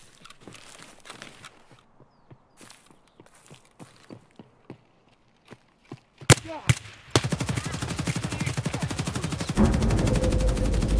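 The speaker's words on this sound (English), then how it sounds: "He had a full automatic weapon with which he killed me instantly." Fully automatic weapon fire in Escape from Tarkov, starting as scattered sharp single reports and footstep-like taps, then breaking into a loud, dense sustained burst of rapid shots that fills the last seconds.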